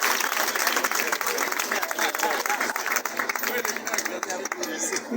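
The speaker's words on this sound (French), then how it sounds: "Applaudissez." A crowd applauds at the inauguration of the Maman Kalunga school group in Kisenso. Dense, steady clapping fills the whole stretch, with voices mixed in.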